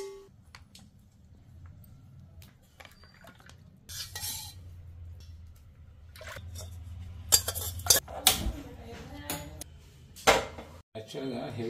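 A metal pot, sized for about 1 kg, is handled for boiling homemade hair oil, giving scattered clanks, scrapes and knocks of metal against metal at close range, with a person talking in between.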